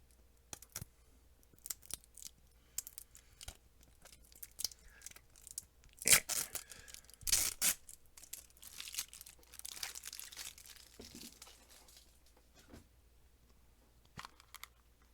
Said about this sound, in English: I think I need scissors.